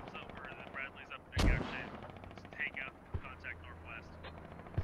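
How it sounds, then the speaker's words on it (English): A mortar fires once in the tactical shooter Squad, a sharp, heavy boom with a trailing echo. Fainter gunshots pop around it and voices talk over the scene. "Mortar's going out."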